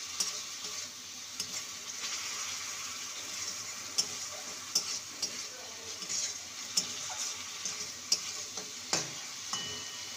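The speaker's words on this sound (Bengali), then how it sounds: "ভালো করে মশলাটাকে কষিয়ে নেব।" Spice paste is fried and stirred in oil for a lentil and bottle gourd dish, a quiet, steady sizzle broken by regular spoon taps and scrapes against the pan.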